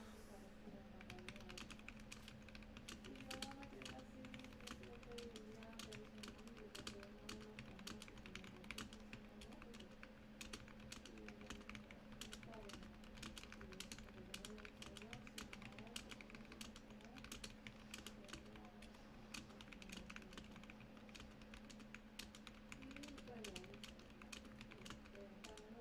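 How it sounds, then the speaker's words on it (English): Fast, continuous typing on a modded Womier TKL mechanical keyboard fitted with new keycaps, a dense stream of quiet, crisp key clacks with slight rattle, heard alone without talk. "I just wanted to test out my keyboard in the darkness."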